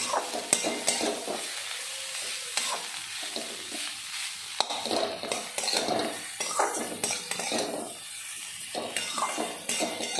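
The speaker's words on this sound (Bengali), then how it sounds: "এবার এই রাঙালু আর একটা আলু দিয়েছি, এর মধ্যে গোলমরিচ আর সন্দক লবণ দিয়ে এটাকে একটুখানি নেড়ে নেব।" Sweet potato and potato stirred in hot frying oil with pepper and salt: a continuous sizzle under repeated close scraping and clinking of a spatula against the pan, in uneven bursts.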